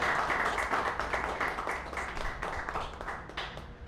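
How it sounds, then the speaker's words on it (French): Audience applause at a Port-au-Prince talk with Gary Victor, with a steady wash of clapping that carries on throughout and tapers slightly at the end. "je voudrais vous demander de les applaudir"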